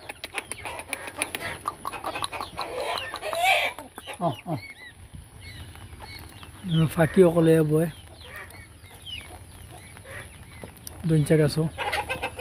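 Farm chickens cluck and call in scattered bursts, some close and loud, others fainter, after days of rain, with someone talking in between.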